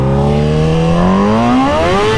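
A vehicle spins out during a U-turn on a dirt-covered median, its engine revving loud and steady with a rising pitch, alone with no voices.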